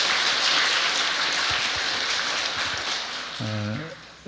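A church congregation at Sunday worship applauds in a broad, continuous wash of clapping that gradually fades, with a brief voiced sound near the end.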